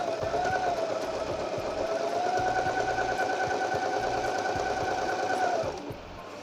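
A Singer 8280 sewing machine runs a decorative stitch in one continuous, even mechanical whir with a rhythmic needle clatter, close and loud, stopping abruptly near the end.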